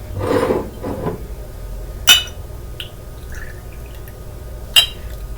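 Liquid, a homemade beet, ginger and lemon tea, is poured into a small shot glass in a brief trickle at the start, followed by a couple of sharp glassy clinks and faint drips in a quiet room.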